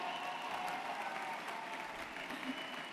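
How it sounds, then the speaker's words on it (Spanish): Supporters applaud at a Vox party campaign rally in Las Rozas, a continuous, even wash of many hands clapping at moderate distance that holds steady throughout. "Un gran aplauso para él."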